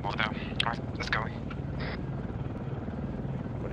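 Helicopter rotor thrum in a Desert Storm-era military video game, a steady low drone running throughout, with radio chatter and voices talking over it.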